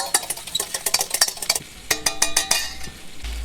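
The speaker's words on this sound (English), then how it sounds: "Whisk that up." Eggs being whisked in a pot for an omelette at a camp stove, with rapid clinking utensil strokes against the pot in quick bursts, close and moderately loud, with no voices.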